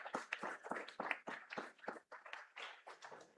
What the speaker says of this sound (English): Please give one more round of applause for Axel.